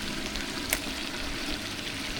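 Washed raw chicken pieces hit hot oil in a large pot while cooking chicken biryani, giving a steady, dense sizzle and crackle close up, with one brief sharper spatter, no talking.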